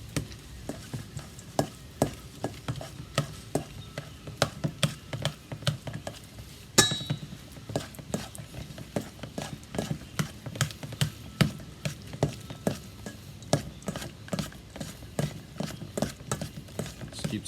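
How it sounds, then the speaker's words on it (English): Smoked walleye dip is stirred in a bowl with a utensil, producing a steady run of close, sharp clicks and soft scrapes in a quick, regular rhythm, with one louder clink partway through. "now we'll give everything a good stir"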